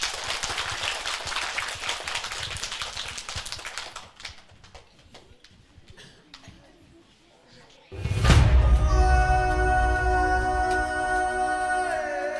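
A crowd applauds at the Idola Anak kindergarten show at TK Satya Kumara. The dense clapping is loud for about four seconds, thins out and fades, then music starts suddenly.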